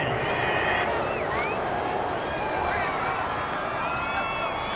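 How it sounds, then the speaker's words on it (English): A home football crowd at a Panthers game against the Cardinals roars and cheers continuously after an interception call, a dense, loud wash of many voices. "This home crowd, they're happy with that call."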